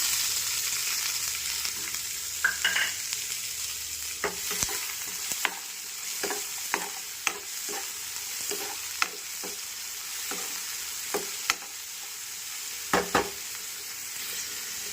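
Onions with green and dried red chillies fry in a pan for okra stew, giving a soft, continuous sizzle with many sharp scrapes and clicks of a spoon stirring at an irregular pace, close and without talk.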